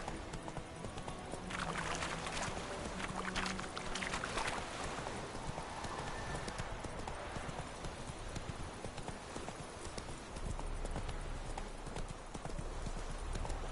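Roach the horse gallops in The Witcher 3, its hooves clip-clopping in a fast continuous rhythm over a dense outdoor ambience. The sound is steady and moderately loud, and no one speaks.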